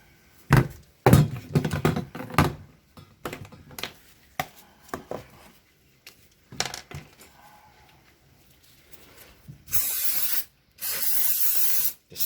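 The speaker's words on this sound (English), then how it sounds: "Just spray a little bit there, not too much." An aerosol spray can hisses in two sustained bursts near the end while repairing broken plastic garden furniture, preceded by scattered knocks, taps and handling thumps.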